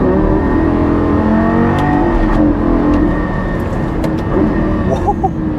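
A Lamborghini Gallardo LP560-4 accelerating hard, its engine note climbing steadily and roaring close and loud through the whole stretch, with no speech over it.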